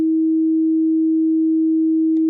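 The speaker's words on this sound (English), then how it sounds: "and we're generating a tone" A pure sine wave tone generated by an Unreal Engine 5 MetaSound, a single steady mid-low hum held at constant loudness for over two seconds before cutting off abruptly, with brief clicks at the end.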